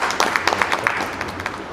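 An audience at an artist welfare society gathering in Hisar gives a short burst of welcoming applause, dense claps of moderate loudness filling the whole moment.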